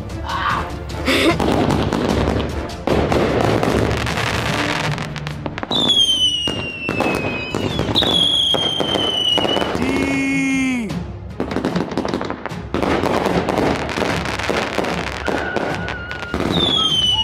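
Fourth of July fireworks go off in a loud, close barrage of cracks and booms, with whistling and screeching rockets rising between bursts and crackling volleys through the whole stretch, people's voices faintly mixed in.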